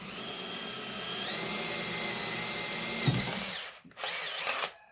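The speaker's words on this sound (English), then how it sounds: "So I drill 2 holes up in the front and 1 in the back" A power drill whines steadily at close range, drilling holes in a whitetail deer skull cap, slows briefly, then spins up again in a second short burst.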